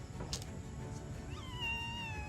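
A cat gives a drawn-out meow that rises and then holds, heard over steady background noise with a few faint clicks before it.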